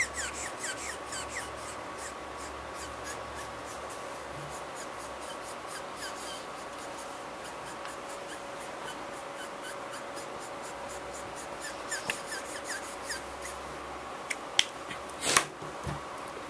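Marker strokes rubbing and scratching across paper while blending manga hair colour, a steady run of quick close squeaky swipes with a few sharper taps near the end, no voice.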